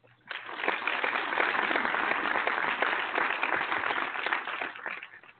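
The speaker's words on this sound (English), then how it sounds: "let's applaud K-Sizzle" Applause on a radio talk show, a sustained burst of clapping that swells quickly, holds steady for several seconds and then fades, sounding compressed and band-limited like a broadcast sound effect.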